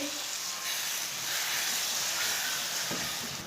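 Eggs frying with shredded cabbage in a pan, a loud, steady hissing sizzle that swells slightly in the middle and carries on without pause.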